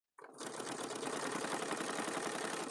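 Sewing machine top stitching along the top of a boxy bag, a rapid, steady mechanical rattle that starts abruptly and runs continuously, close and alone.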